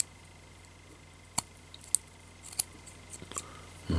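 Scissors snip cotton wick for a Goon RDTA clone rebuildable atomizer, trimming it flush with the Pyrex tank: several short, crisp metallic cuts spaced irregularly in a quiet room, close to the listener.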